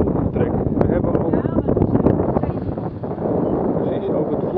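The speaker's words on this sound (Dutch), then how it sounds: "We hebben ook wind, dus het zeilt." Wind buffets the microphone aboard a sailing boat heading to the SKS 2019 regatta at Stavoren, a loud, gusty roar that rises and falls for several seconds, with no clear speech.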